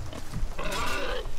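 Pigs in the survival video game Nightingale give a short burst of grunting, bleating-like animal calls, close and fairly loud, lasting about a second over a low rumbling background.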